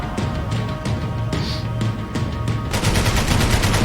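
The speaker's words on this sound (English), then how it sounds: "Minigun mı?" A minigun in Max Payne 3 fires in rapid sustained bursts, a dense mechanical rattle that intensifies toward the end, loud and close with no speech.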